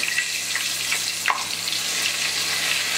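Potatoes fry in coconut oil with a steady, hissing sizzle, a bright continuous crackle with small pops and one brief louder spatter, and no talk.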